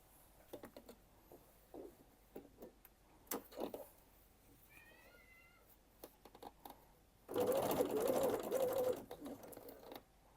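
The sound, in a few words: sewing machine basting a luxury bag zip seam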